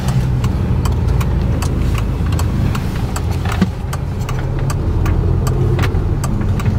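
A car engine runs close by in a steady idle, a loud continuous low rumble with faint regular ticking that holds an even level throughout, with no speech over it.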